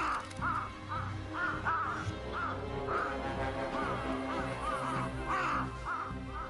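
Crows in Tokyo caw repeatedly and harshly while mobbing a mother hawk, several birds calling in quick, overlapping bursts at close range.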